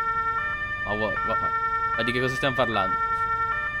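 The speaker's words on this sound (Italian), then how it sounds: "c'ha la sirena pure sto coso" Emergency vehicle siren in the video game Farming Simulator 22, sounding from a forestry rescue vehicle as a steady, continuous electronic tone throughout, with someone talking over it.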